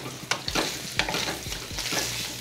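Sweet Italian sausage fries in olive oil in a pan, a soft continuous sizzle with a few quick scraping stirs of a utensil at close range.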